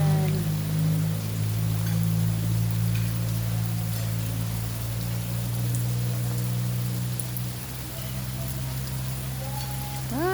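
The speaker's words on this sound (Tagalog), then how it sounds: "Lakas ng ulan." Heavy rain pouring down in a steady broadband hiss that fills the whole stretch, with a faint low hum beneath and brief traces of voices.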